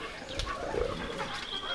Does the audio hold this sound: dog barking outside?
no